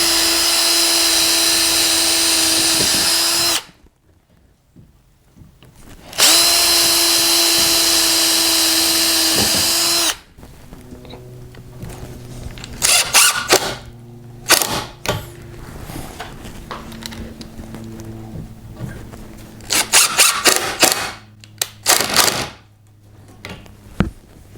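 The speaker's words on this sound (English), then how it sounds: "we're going to drill some pilot holes real quick through." A power drill bores pilot holes through wooden vertical supports for garage storage racks, two steady high whining runs followed by shorter bursts, clicks and rattles of handling nearby.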